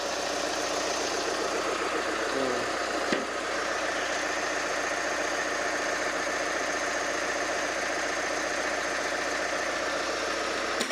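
A 2.8-liter Duramax diesel in a 2019 Chevy Colorado runs steadily at idle with a clattery, knocking rumble, close and continuous throughout with one brief clunk early on.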